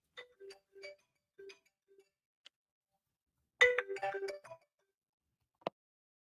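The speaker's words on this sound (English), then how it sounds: "Hey, my phone ring." A mobile phone rings with a faint electronic ringtone, a few short chiming bursts followed by a denser flurry of tones, quiet and heard alone.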